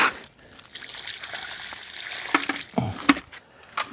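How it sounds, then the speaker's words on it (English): Water from a hose or tap runs and trickles while rinsing out a piece of garden equipment before dawn, a steady splashing flow with a few louder spatters near the end. "So I'm just going to wash that out."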